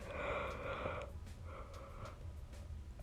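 A long, drawn-out yawn with a strained, breathy voiced tone, followed by a second shorter exhale, close and quiet.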